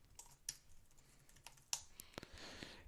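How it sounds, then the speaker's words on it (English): Short bursts of computer keyboard typing on a login page, with a few sharp clicks and soft keystrokes in a quiet room. "and type again."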